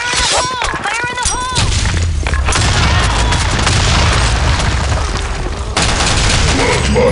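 Grenade blasts and rapid gunfire in the online shooter BlackShot, loud booming bursts and sustained rattling fire packed densely together, with a game voice callout at the start.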